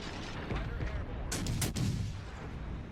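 Naval gunfire in the World of Warships: Legends video game, a dense burst of loud cannon blasts mid-clip over a constant rumbling battle bed, with a game character's voice faintly under it.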